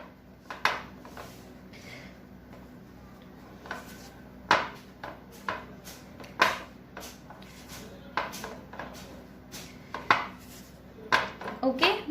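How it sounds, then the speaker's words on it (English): A spatula working Amul salted butter in a bowl, with repeated close clinks and scrapes against the dish coming at an uneven rhythm over a faint background hum. "I'm just mixing it with the help of spatula."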